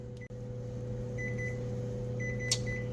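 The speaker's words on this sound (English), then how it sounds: "that's the timer for our cheese" A kitchen timer beeps in short, high, faint pips, a few in a row and then a couple more, over the steady hum of a running appliance, probably a microwave.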